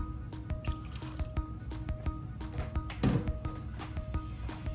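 Milk being poured into a batter of rice flour, salt and eggs makes soft, close drips and liquid plops at a fairly regular pace, faint and gentle over a quiet background.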